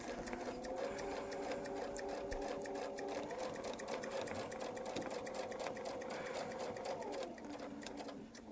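Close, continuous hum and rapid needle chatter from a sewing machine quilting a 1/4-inch line along a stitch line in a Baptist fan pattern, running without pause for about seven seconds before easing slightly.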